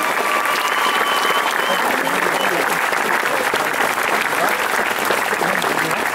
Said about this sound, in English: How about a round of applause for all the family members?